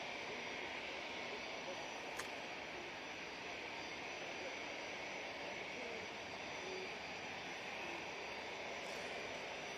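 Airplane touching down at Manchester Airport, a steady broad engine roar heard from a distance throughout, with a couple of faint clicks.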